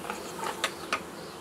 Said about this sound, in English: So many bees in here